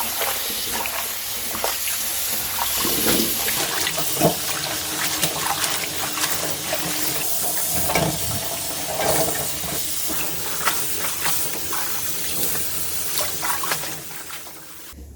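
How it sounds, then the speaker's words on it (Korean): Mustard greens being washed in a sink under running tap water, a steady hiss of flowing water with irregular splashes and rinsing sounds as the leaves are handled, close and fairly loud throughout. "이 갓은 다른 야채와 달리 다섯 번 정도는 씻어주셔야만이 깨끗하거든요."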